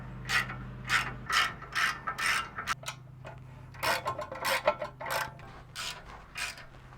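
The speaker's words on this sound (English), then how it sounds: "just finishing tightening up the top 3 bolts here" Ratchet clicking in repeated bursts while tightening the upper ball joint bolts on a first-generation Toyota Tundra during a Bilstein 4600 shock install, close and fairly loud, with short pauses between strokes.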